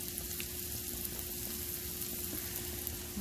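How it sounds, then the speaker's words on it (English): Beef sausage, onions and green and red peppers sautéing in a pan, a steady close sizzle and crackle with a faint low hum beneath, no voices. "I'm putting some beef sausage, onions and peppers, green pepper, red pepper together, sauteing it up"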